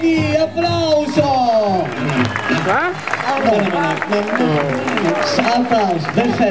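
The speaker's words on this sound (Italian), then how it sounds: "Applauso, perfetto, bravi, bravi." Audience at a holiday resort show claps under loud, excited talking and cheering voices, the applause a continuous patter beneath the chatter for several seconds.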